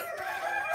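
Chickens being moved between pens let out a brief, close crowing call.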